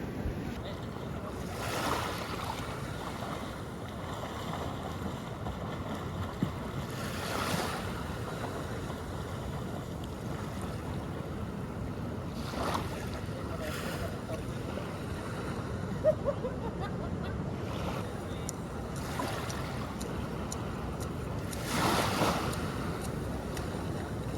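Steady surf and wind wash over a beach at Bolinao, Pangasinan, with soft swells of waves rolling in at intervals; no voices stand out.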